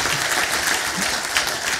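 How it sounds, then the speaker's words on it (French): Brief burst of audience applause at a national arboriculture conference session in France, a dense, even clatter of many hands heard close and fairly loud for under two seconds. "Sous vos applaudissements pour finir à la Jacques Martin."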